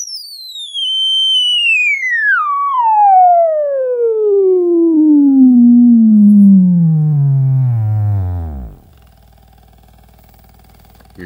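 A loud pure sine test tone sweeps steadily downward in pitch from high to very low, down to 20 hertz, over several seconds, then cuts off, leaving faint hum.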